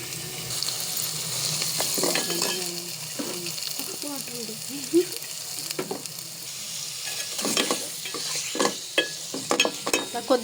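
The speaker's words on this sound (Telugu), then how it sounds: "చికెన్ వేసుకొని మొత్తం కలుపుకోవాలి" Chicken pieces being stirred in a hot pan with ginger paste for a chicken curry, giving irregular scraping clatter over a steady frying sizzle at close range, with occasional brief voice in the background.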